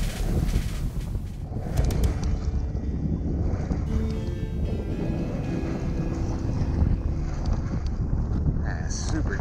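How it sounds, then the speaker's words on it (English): Wind buffets the microphone over choppy water around a kayak out musky fishing, a constant loud rushing roar with lapping and slapping of small waves against the hull, broken by a few knocks and thumps from gear aboard. "It's super choppy out here today."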